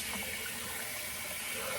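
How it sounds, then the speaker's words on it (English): Cool tap water runs quietly as a face is rinsed after shaving, a soft steady splashing flow that continues without pause and with no voices. "So now I'm going to rinse off with some cool water"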